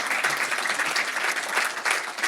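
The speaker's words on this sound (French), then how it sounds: "troisième larron, c'est Charles Caudrelier, que vous pouvez applaudir." An audience at a sailing talk event applauds a guest skipper with a steady, moderately loud round of crowd clapping throughout.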